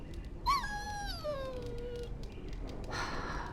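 A dog in the Dragon Age: Origins video game gives a high, drawn-out whimpering whine that bends downward over about two seconds, followed by a brief burst of background noise.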